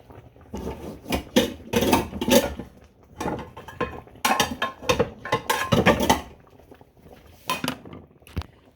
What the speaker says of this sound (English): It's just a matter of sauteing the vegetables in a pan.